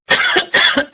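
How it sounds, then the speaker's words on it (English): Two quick, close coughs in succession, each a harsh double burst, loud and abrupt against silence. "Excuse me, little cough."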